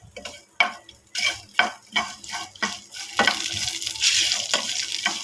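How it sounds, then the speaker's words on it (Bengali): Bharta ingredients fry in mustard oil in a pan with a soft, continuous sizzle. Rhythmic scraping strokes from a spoon stirring them come close and distinct, with no voices. "সরিষার তেল দিয়ে দিলাম। এখন সব কিছু ভালোভাবে ভাজবো।"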